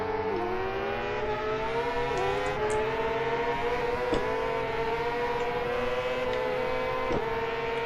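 A BMW superbike engine in GP Bikes during a World Superbike race, a steady high-revving whine with gear-shift dips that holds loud and close throughout, with no talk over it.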